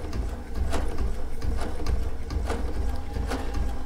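Baby Lock sewing machine running steadily while stitching a scrappy sashiko quilt, a continuous low mechanical whir with regular needle clacks about every second, close and even throughout.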